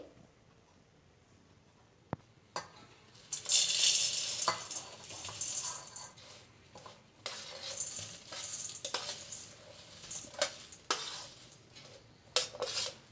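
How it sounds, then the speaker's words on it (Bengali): Flattened rice, puffed rice, jaggery and curd are mixed together for dadhikarma, giving rustling, crunchy stirring and scraping with occasional clinks against the bowl, close and moderately loud. "তাহলে চলো এগুলো একটুখানি মাখিয়ে নিই।"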